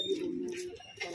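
A male pigeon coos in a low, throaty murmur that rolls on steadily for about a second, close and fairly quiet, with faint rustling behind it and no talk.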